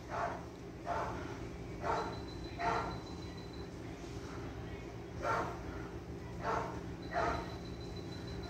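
Distant, muffled dog barks come in two clusters of several barks each, separated by a short pause, over a quiet low hum.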